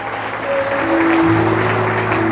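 A church congregation applauds Jesus during a sermon, a steady wash of clapping under sustained keyboard or organ tones.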